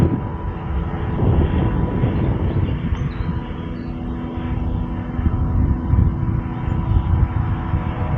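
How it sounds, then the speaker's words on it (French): The continuous low drone of a small light pleasure plane passing overhead, steady and fairly loud throughout with a slight swell near the end. "vous pouvez voir que j'ai un petit avion de plaisance qui passe"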